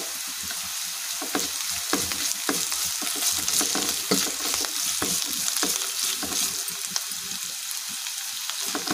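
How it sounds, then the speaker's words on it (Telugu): Onions with ginger garlic paste fry and sizzle steadily in a pan while a spoon stirs in frequent scraping strokes, loud and close, continuous throughout with no voices. "తర్వాత అల్లం వెల్లుల్లి పేస్ట్ వేసుకొని పచ్చివాసన పోయే వరకు ఫ్రై చేసుకోవాలి."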